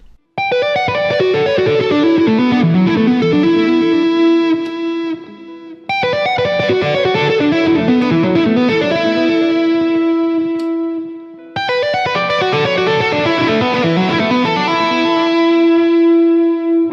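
Distorted electric guitar, a Sire Larry Carlton H7, playing a fast run of tapped notes, repeated three times, each phrase ending on a sustained ringing note.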